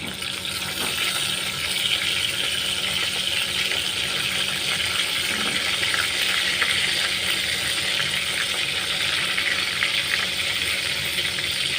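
Food frying in a little oil in a pan for mutton keema, a steady broadband sizzle that runs continuously and close at an even level, with a faint watery hiss throughout.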